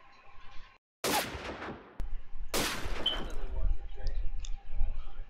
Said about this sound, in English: Bit of a deagle fire coming out from Toxic